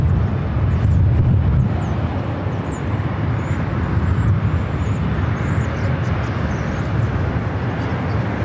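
An Air Portugal Airbus A330neo airliner takes off from the south side of LAX, its jet engines making a loud, steady broadband roar that fills the whole stretch without pause. No voices are heard.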